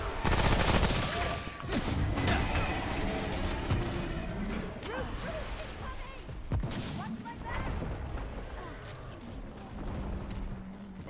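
Dense, sustained gunfire and explosive booms from the co-op shooter game Remnant: From the Ashes, loud and continuous throughout, with players talking over the battle.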